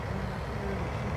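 A tractor in Farming Simulator 19 drives with a steady, dense engine drone that holds even and unbroken over a short stretch, fairly quiet.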